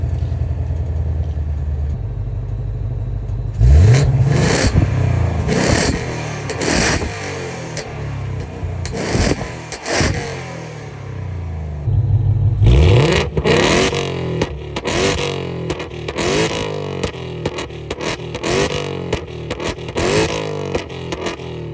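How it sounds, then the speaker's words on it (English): A Ford Mustang with an AliExpress valvetronic exhaust revs hard in a series of loud, close bursts that rise and fall, with a short lull near idle before a second run of sharp revs. "And then I'm gonna give y'all some revs."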